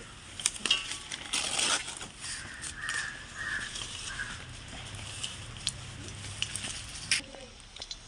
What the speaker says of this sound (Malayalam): ഇതാ കടുകൊക്കെ പൊട്ടി വന്നിട്ടുണ്ട്